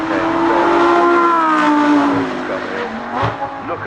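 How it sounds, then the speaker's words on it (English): A high-revving Lamborghini Huracán Spider V10 engine roars loudly as it passes, its pitch sliding down and fading slightly as the car moves away uphill at the Goodwood Festival of Speed 2024. "This though from Lamborghini Spider making its way up the hill"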